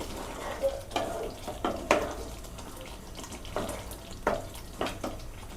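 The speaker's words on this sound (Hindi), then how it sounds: "मसाला फ्राई होने तक इसे हम पकने देते हैं।" Chicken masala frying in a pan gives a steady, quiet sizzle broken every second or so by clinks and scrapes from stirring, with no talking.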